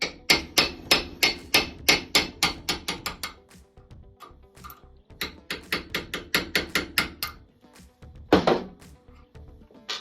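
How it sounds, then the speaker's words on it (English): Rapid, evenly spaced metallic hammer blows on a brass drift driving the front sight off a Ruger 10/22 barrel clamped in a vise, two loud close bursts of strikes separated by a short pause, no talking. "Then you drive off the front sight."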